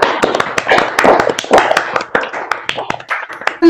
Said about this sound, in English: Do I hear some claps from the audience?